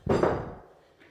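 A hammer strikes a tire bead to pop it onto the rim during a rear tire change: one sharp, loud metallic-thudding hit followed by a second close blow, each decaying quickly into quiet.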